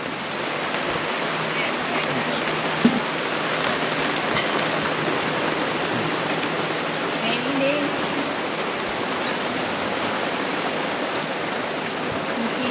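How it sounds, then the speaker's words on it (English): Steady rain hisses down on a sailboat at sea on the way to Panama, forming a dense unbroken wash of drops with an occasional louder tap and faint voices underneath. "Can you tell? Raining."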